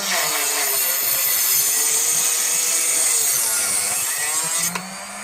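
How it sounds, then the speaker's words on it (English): A small cut-off saw whirs and grinds steadily through a 223/556 brass cartridge case, loud and close for a few seconds before easing off at the end. "I just take the little cut-off saw"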